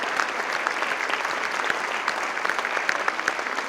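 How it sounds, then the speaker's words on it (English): Dense, steady applause from a school band concert audience cheering the stage crew, many hands clapping together in a continuous wash at even loudness that holds through the whole stretch with no talking. "Keep the applause going for stage crews."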